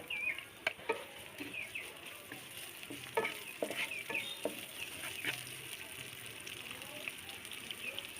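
Chopped onions frying lightly in oil in a wok give a steady soft sizzle with occasional stirring scrapes, fairly quiet and close.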